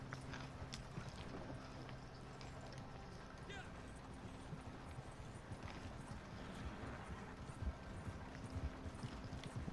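Horse hooves clip-clop in a steady rhythm in Red Dead Redemption 2, close and continuous, with game ambience and faint voices underneath.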